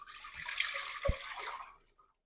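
Water splashes and rushes steadily into a pot as four cups are poured for a Turkish-style chicken noodle soup, close and moderately loud, with no talking.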